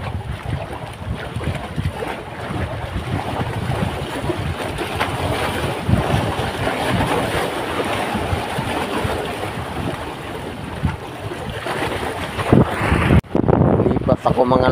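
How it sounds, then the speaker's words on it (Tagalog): Strong wind buffets the microphone over the steady rush of waves at sea while fishing from the shore, loud and continuous with no clear talk. "Talaga ng hangin."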